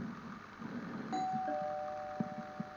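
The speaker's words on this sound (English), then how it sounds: "Stop ringing that doorbell." A two-tone electronic doorbell chime rings once, clear tones sustaining over a low background hum, followed by a couple of soft thumps.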